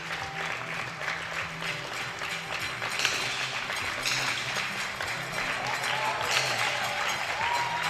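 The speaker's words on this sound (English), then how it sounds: "getting the crowd clapping and supporting these athletes" Crowd clapping steadily throughout at a women's junior 3-position rifle shooting final in Osijek, a dense wash of applause with a faint murmur of voices underneath.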